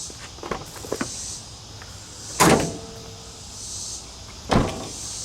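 A car hood is lowered and shut, giving two firm thuds a couple of seconds apart after some lighter handling clicks, close by.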